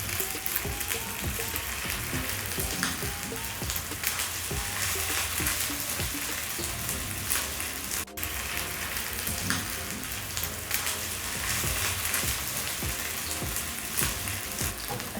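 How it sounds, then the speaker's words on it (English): Meatballs sizzle and crackle steadily in hot oil in a pan, a dense, loud frying hiss that runs unbroken with no voices, one brief dropout partway through. "Drop your meatball and please don't overcrowd the meatballs."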